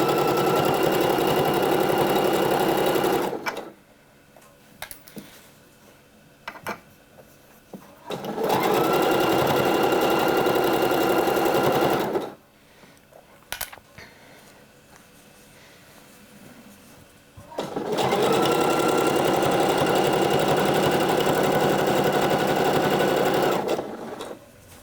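A sewing machine stitches a seam on a sweater-style underlayer top, running in three long steady whirring bursts of several seconds each, separated by quiet pauses with faint handling noises, close and without talk.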